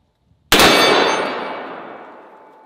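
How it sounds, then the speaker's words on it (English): A single loud shot from a .500 Magnum revolver strikes a steel target, a sharp crack followed by a long, bright metallic ring that slowly fades over two seconds, heard alone. "Ringing that steel."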